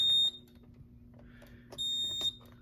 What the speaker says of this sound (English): It will set off the detector